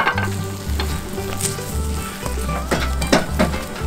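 A whole beef chuck flap, about 2.5 kg, sizzles and crackles loudly and steadily on a hot stone, close and continuous with no talking.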